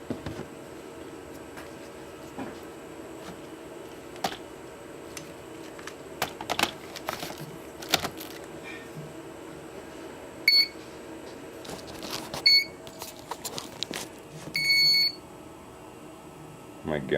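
A drone powering up after crash repair gives off scattered small clicks and ticks over a low hum, then a few short, bright electronic beeps near the end, all fairly quiet and close with no talking.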